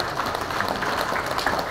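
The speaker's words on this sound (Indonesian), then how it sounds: "Boleh tepuk tangan Bapak Ibu." Audience applause at a gathering in Makkah, a dense, uniform patter of many hands, moderately loud and continuous with no voices over it.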